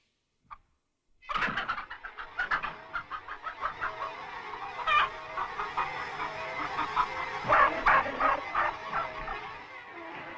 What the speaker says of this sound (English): The chickens seemed to remember old Major saying that their eggs should never be taken from them